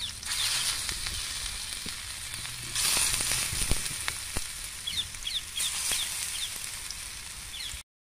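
Taro leaf pakoras shallow frying in oil on a flat tawa give a steady, close sizzle throughout, with brief louder crackling bursts and faint clinks in the background.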